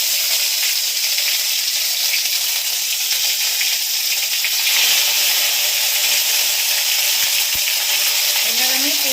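Ginger paste hits hot oil in a pan with hilsa fish head and five-spice, giving a loud, steady sizzle and hiss that carries on throughout with a few small clinks.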